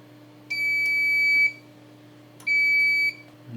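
Atlantic Research Interview 40A vintage data analyzer beeping after its test button is pressed: two close, clear electronic tones, each lasting about a second, separated by a short gap over a faint steady hum.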